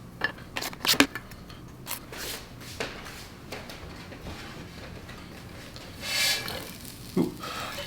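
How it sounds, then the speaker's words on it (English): A knife spreads avocado onto food in a series of soft scraping and tapping strokes, close and quiet, clustered irregularly with brief pauses and a slightly longer smear near the end, without any talking. "Next up is literally just spreading avocado on as if it were peanut butter."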